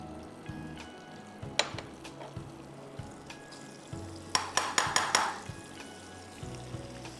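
Crushed garlic fries in wing sauce with a soft, continuous sizzle, punctuated by spoon taps and a quick burst of rapid scraping strokes partway through.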